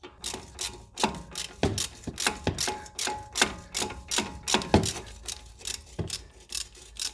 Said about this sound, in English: Now I'm going to twist the head of the bolt while I press from the other side the bolt.